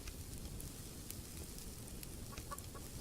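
Chickens in the survival video game Subsistence cluck faintly in brief scattered notes over a steady hiss of ambient background noise.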